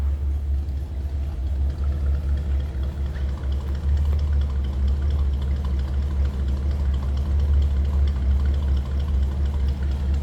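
A 1955 Ford Thunderbird V8 idles steadily, heard up close from the rear, with a deep, even low-end rumble and slight lumpy pulsing throughout, no voices.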